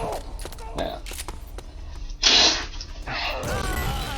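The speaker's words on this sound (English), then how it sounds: "Hang on, need to sneeze." A single close sneeze, a sharp hissing burst, amid a speaker's casual talk in a quiet room, preceded by a short sharp intake and followed by breathy noise.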